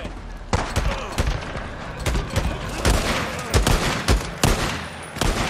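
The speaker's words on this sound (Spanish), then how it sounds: "Vale, mucho tiroteo." Heavy gunfire erupts in Days Gone, dense bursts of rapid shots and sharp booms cracking close and loud in an irregular barrage.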